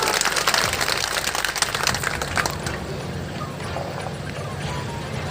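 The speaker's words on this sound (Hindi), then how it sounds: "एक बार जोरदार तालियों से इनका स्वागत करके बताइए।" A rally crowd in Bihar claps loudly to welcome Madhya Pradesh chief minister Dr Mohan Yadav, with sharp dense clapping for the first few seconds that thins out and fades under a low crowd murmur.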